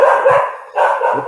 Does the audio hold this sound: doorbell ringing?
no